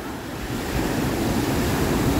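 Rough ocean surf breaks at the shore in Cancun, a loud, continuous broadband wash of churning water and wind with no pause.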